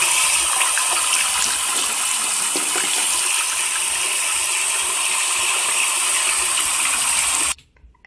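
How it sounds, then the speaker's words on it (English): Bathroom tap running while hands are washed, a loud steady hiss of flowing water close by that cuts off abruptly near the end, no voices. "Let's go to the bathroom and wash our hands to see if it works."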